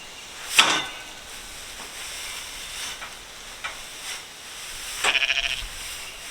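Two short, high sheep bleats, one near the start and a wavering one later, over a quiet hissing background with no talking.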